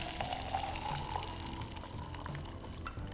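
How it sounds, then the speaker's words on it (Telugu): Water is poured into a mixer jar holding peanut paste, a short steady trickling splash heard up close with no voices. "కొన్ని నీళ్లు పోసుకోండి,"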